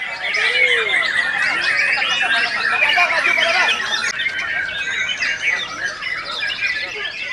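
Many caged songbirds at a bird singing contest chirp, trill and whistle at once in a dense, continuous chorus, with crowd murmur beneath.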